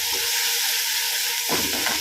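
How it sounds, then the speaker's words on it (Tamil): Garlic frying in a pan while being stirred, a steady close sizzle with a brief scraping stir partway through. "அப்போ அடிப்பிடிக்க விடாமல் கொஞ்சம் கிண்டிகிட்டே வாங்க."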